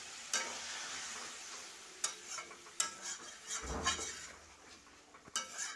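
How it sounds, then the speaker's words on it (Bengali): Water poured into a hot pan of frying potatoes and spices for a small pond-fish curry, giving a sizzling hiss with stirring scrapes and light utensil clinks against the pan, close by. "এখন আমি একটু জল দিয়ে দেবো।"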